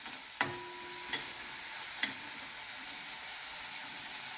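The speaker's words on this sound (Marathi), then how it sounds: "हा कांदा थोडा परतून घेते मी." Onion sautéing in a pan for a Goan Saraswat pomfret dish, a low continuous sizzle broken by three sharp utensil clicks or taps, close and quiet.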